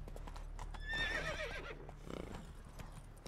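A horse in the video game The Witcher 3 whinnies once, a short rising and falling neigh, over a soft, steady clip-clop of hooves. The sound is fairly quiet overall.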